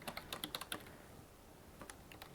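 Keys on a computer keyboard clatter in quick bursts, a rapid run of taps followed by a pause and a few more, close and quiet with no talking.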